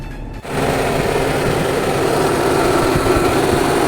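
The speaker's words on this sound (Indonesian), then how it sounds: "AC kondisinya saya hidupkan ya." Wuling Almaz CVT Turbo car idling with the air conditioning running, a steady close engine and fan hum that starts after a brief quiet moment and holds constant to the end.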